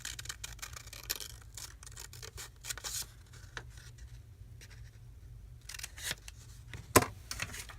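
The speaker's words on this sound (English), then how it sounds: "We'll just cut the one off" Paper being snipped with scissors at a crafting table while making a pocket letter, a run of soft close rubbing, scraping cuts with a sharper click near the end, no talking.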